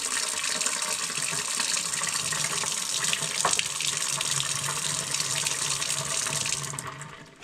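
Water from an ozone-filtered tank pours in a steady, close, continuous splashing stream into drinking glasses for about seven seconds, then tapers off at the end.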